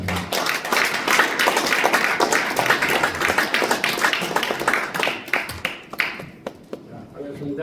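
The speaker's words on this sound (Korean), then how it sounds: "큰 박수로 맞아주시기 바랍니다" An audience in a lecture hall gives a big round of applause welcoming a professor and author, loud and sustained with many distinct hand claps, thinning out toward the end as a voice begins to talk.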